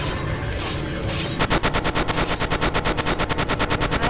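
Rapid automatic gunfire in the horror game Sirent Head Rebirth, a loud, steady stream of evenly spaced shots that begins abruptly after a second of dense noise and carries on without a break.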